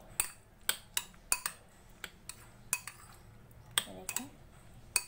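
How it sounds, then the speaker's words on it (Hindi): Chopped mango stirred into cream in a bowl for a mango dessert, heard as a series of sharp spoon clinks against the bowl at an uneven rhythm, close and fairly quiet, with no talking. "जो अलग से क्रीम रही थी उसके अंदर हम ये जो मैंगो हमने काट के रखे हैं वो ऐड कर देंगे, और इसको भी मिक्स कर लेंगे"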